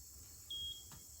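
Solar Ghost Controls dual-arm gate opener giving a single short, clear electronic beep as it opens, faint against a quiet outdoor background, with no talking.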